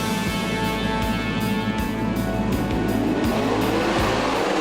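Sprint cars roar together at the start of a ten-lap speedway heat race at Premier Speedway, Warrnambool: a loud, dense wall of engine noise with rising revs and a few pulsing surges, no talk.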